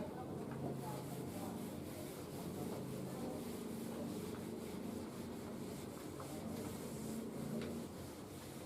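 An eraser or cloth rubs a drawing off a board in a continuous close scratchy friction, steady throughout with faint voice in the background.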